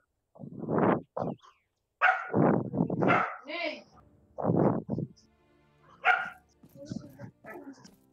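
A dog in a hunting video game barks in several sharp bursts, fairly close, spread across the stretch with short gaps and quieter yips between them.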